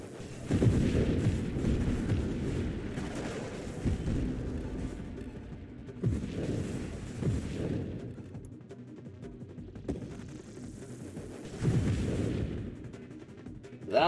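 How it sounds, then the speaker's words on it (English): Repeated heavy booms and rumbling blasts of flak explosions in a video game, in bursts, loud and dense, with deep low rumble between volleys. "That was a lot of explosions."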